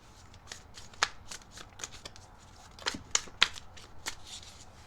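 A deck of tarot cards is shuffled close up, with soft riffling and sharp flicks and taps of the cards in an irregular rhythm.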